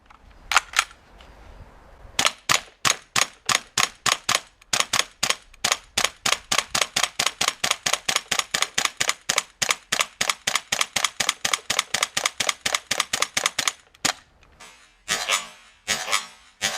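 An SMG-8 airsoft gas gun by WE fires a full magazine shot by shot, a long, even run of sharp, loud, close cracks that stops at the end with a few spaced clicks and clatters.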